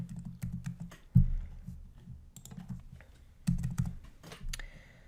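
Computer keyboard typing as values go into an online water quality data form, soft irregular key clicks in short bursts with a few sharper taps, close and quiet.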